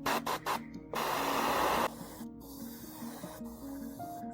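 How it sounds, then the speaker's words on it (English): Airbrush spraying cream-white acrylic base coat onto a small toy figure, short hissing bursts followed by a sustained, louder spray of about a second, then quieter intermittent puffs over a background hum. "I think I want to bust out my airbrush."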